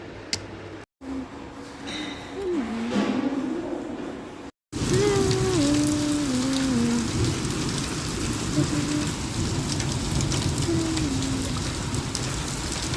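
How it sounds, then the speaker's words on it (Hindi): Steady, dense rain pours down outside a hostel, a continuous hiss with a short break near the start, while a faint voice hums or murmurs beneath it. "बारिश हो रही है, बारिश बारिश बारिश।"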